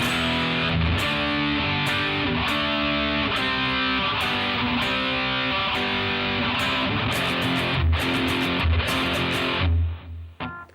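A heavily distorted electric guitar plays a riff from the outro of "Still Of The Night", loud and continuous, with chugging repeated chords and short gaps between phrases.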